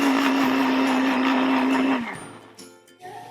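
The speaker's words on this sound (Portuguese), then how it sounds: "Também vamos bater a aveia no liquidificador junto" A kitchen blender whirs loudly and steadily as it mixes batter with oil, then its motor winds down and stops, leaving faint clatter.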